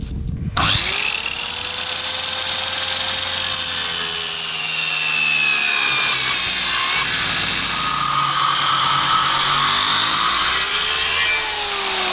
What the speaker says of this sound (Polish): Ta pilarka chyba ducha wyzionie po tej robocie.